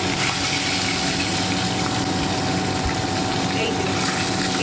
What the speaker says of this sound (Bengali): এইভাবে আমরা মাছগুলো ধুয়ে নিলাম